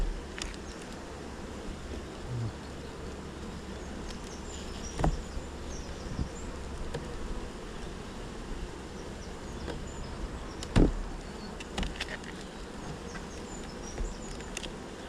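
Honey bees buzz steadily around an open beehive in September, a continuous low insect drone with a few brief sharper knocks and bumps, close and fairly even throughout, with no voices.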